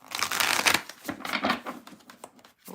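A deck of cards being shuffled quickly, a brisk riffling flutter repeated in a few close bursts with no talking.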